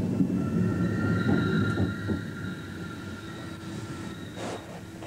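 A Fiat ElettroTreno Rapido 450 Pendolino tilting train runs on the rails with a steady, moderately distant rumble and a faint high whine, fading slightly toward the end.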